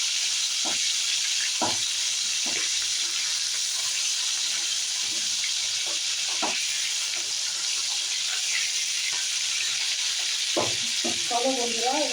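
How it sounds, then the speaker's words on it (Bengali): Spices fry in hot oil for a hilsa and eggplant curry, giving a steady, close sizzling hiss that runs throughout, broken by occasional stirring knocks and a faint voice. "মশলা যখন ভাজা হচ্ছে"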